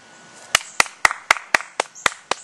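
One person claps slowly and unevenly, about eight sharp, close-up claps spaced roughly a quarter second apart, with no crowd and no talking.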